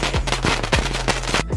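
A crazy fountain firework going off nearby, firing a loud rapid string of sharp cracks and pops in an irregular burst over a continuous hissing roar.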